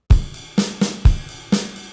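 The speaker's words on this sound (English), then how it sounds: "The drum beat here is different to the rest of the song." Solo drum kit pattern from the middle eight of a song: five sharp hits in an uneven syncopated rhythm, with deep kick thumps alternating with brighter snare cracks, close and loud with no voices.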